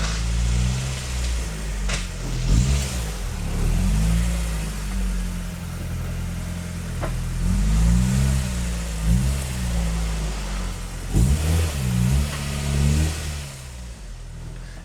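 A car engine revs and idles at low speed as the car creeps up onto a Nussbaum Jumbo HF 7 scissor lift, with repeated throttle swells and pauses over about fifteen seconds, fairly close and steady.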